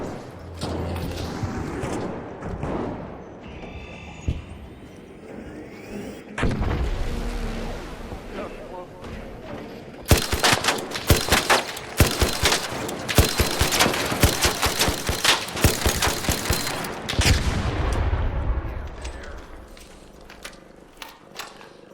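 Heavy gunfire rattles in ARC Raiders, a dense burst of rapid shots for several seconds after quieter mechanical clatter, fading into a rumble at the end.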